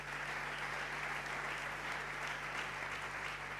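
A church congregation applauds the press team, a dense, steady wash of clapping from many hands filling a large room, continuous and even from start to finish.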